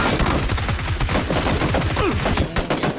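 Rapid bursts of automatic gunfire ring out in the video game PUBG Battlegrounds, dense and loud with overlapping shots in quick succession for a few seconds.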